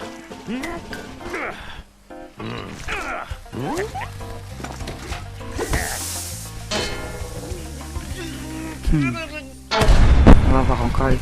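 Cannons fire in the Spyro 2 Reignited Trilogy game as heavy booms and blasts amid busy game effects. Someone talks over them, and a loud burst comes near the end.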